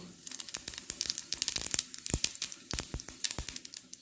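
Cumin seeds crackle and pop in hot oil, a quick irregular scatter of sharp snaps at moderate volume.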